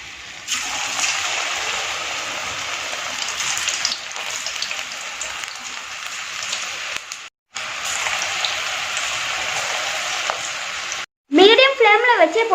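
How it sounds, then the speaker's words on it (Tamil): Bitter gourd chips fry in hot oil in a kadai over a medium flame, giving a dense, steady sizzle and crackle like rain that breaks off twice, with a voice over it near the end. "மீடியம் ஃப்ளேமில் வச்சே பொரிச்சுக்கலாம்,"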